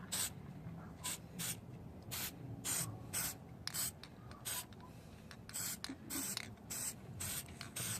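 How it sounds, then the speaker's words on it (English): An aerosol spray can hisses in about a dozen short, evenly spaced bursts, close and fairly quiet, laying an even coat on GY6 180cc scooter engine top-end parts. "we want to actually get a good even spray on there"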